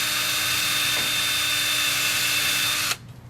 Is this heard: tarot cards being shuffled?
no